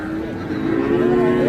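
A calf moos in a long, loud low call at a busy cattle market in Hazratpur, Dhaka, where small heifers and bull calves are being sold, with the call swelling in strength toward the end.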